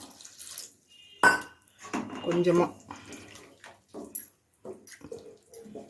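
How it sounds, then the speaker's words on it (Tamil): Water is poured into a cooking pan while making chicken manchurian, a short splashing pour among clinks of pots and utensils, with a person talking over the kitchen sounds. "இப்போ வந்து கொஞ்சமாக தண்ணி ஊற்றிக்கலாம்."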